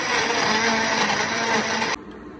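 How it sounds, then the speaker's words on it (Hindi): A kitchen blender grinds onion with spices and red chili powder into masala: a loud, steady whirring roar for about two seconds that cuts off abruptly. "बस इन सब चीज़ों को ब्लेंडर में डाल के मैं अच्छे से"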